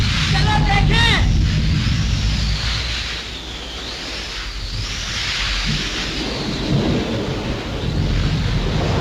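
A loud thunderstorm rumbles and crackles with rain and wind in an old 1937 Hindi film soundtrack, opening with a sharp thunderclap followed by sustained rolling rumble, with faint music beneath.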